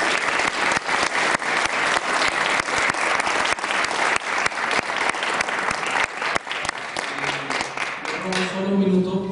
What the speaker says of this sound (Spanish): para él pido un aplauso